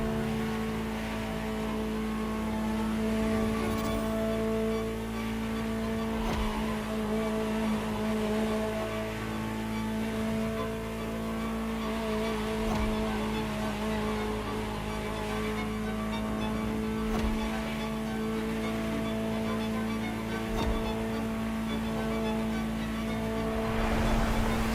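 Ferrari GTO engine in The Crew Motorfest racing game, a steady droning hum held at a fairly constant pitch throughout, with faint low thumps here and there and no talk over it.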